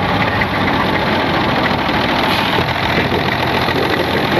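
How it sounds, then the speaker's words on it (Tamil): A small engine train on a Fiji sugar railway runs steadily nearby, its loud continuous engine drone and chugging filling the scene without pause. "ஒரு குட்டி இன்ஜின் வண்டி, ட்ரெயின்"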